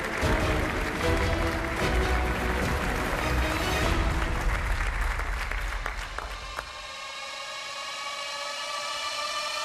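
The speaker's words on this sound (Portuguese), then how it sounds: "Um aplauso para os dois." A studio audience applauds on a Portuguese television game show, sustained loud clapping that thins and fades out, followed by a low electronic musical tone.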